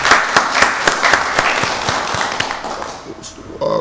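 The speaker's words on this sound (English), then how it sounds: "Let's give stormwater a round of applause." Applause from the audience at a Rockdale County Board of Commissioners meeting, a burst of scattered hand claps that gradually thins and fades, with a few louder claps near the end.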